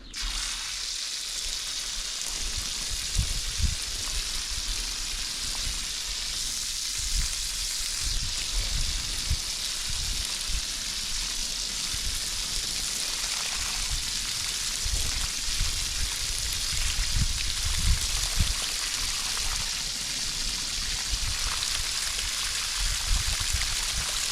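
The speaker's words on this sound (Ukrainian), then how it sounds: "Так, налємо туди води." Water poured from a well supply into a container for a drip irrigation setup, a continuous splashing, gurgling rush that runs steadily throughout with low thumps beneath.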